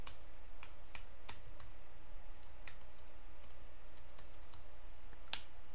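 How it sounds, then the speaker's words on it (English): Someone types a password on a computer keyboard while logging into a network router over telnet, producing a quiet, close string of irregular key clicks with a few sharper taps against faint room hiss. "let me start by typing in the password."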